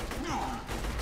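Video game gunfire in Borderlands 2, a short burst of shots with a tonal sweep over it, heard in a single loud moment lasting about a second.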